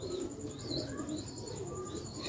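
Sialkoti pigeons coo softly and repeatedly close by, with faint chirps mixed in and no speech.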